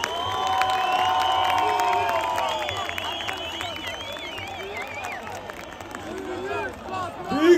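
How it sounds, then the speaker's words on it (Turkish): A big outdoor crowd cheers and applauds at Samsunspor's championship celebration in Cumhuriyet Square, with whistles, shouts and a continuous roar of voices, and a loud burst near the end. "Alkışlarınızla Osman Çelik."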